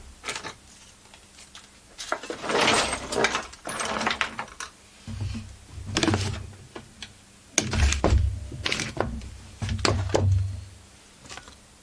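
A Husqvarna 44 chainsaw has its cylinder head taken off: close, dry metallic clicks, ticks and tool rattles come in irregular bursts with short quiet gaps, and no one speaks.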